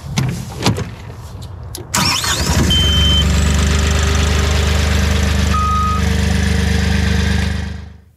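Avant loader engine fired back up after a fault: a few clicks and clunks, then the engine catches and runs loud and steady at close range before cutting off at the end.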